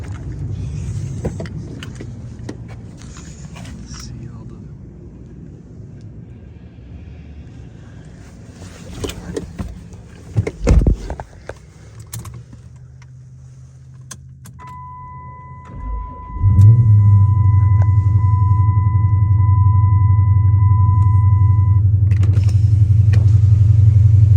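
A 2007 Chrysler 300 SRT-8 with an aftermarket exhaust and a misfire fault idles close by, with a deep steady rumble that swells into a louder, heavier drone in the second half and a brief high whine over it.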